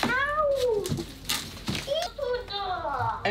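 Several cats meow loudly and close by in rising and falling cries, one after another with brief gaps, and some overlap near the end.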